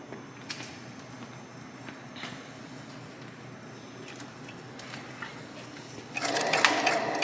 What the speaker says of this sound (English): As you see, I have a wheel bearing noise too on it.